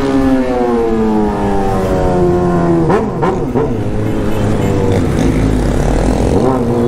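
A Honda Hornet motorcycle with a 3-inch exhaust pipe revs up loudly, pitch climbing, with a couple of sharp throttle blips in the middle before settling into a steady roar.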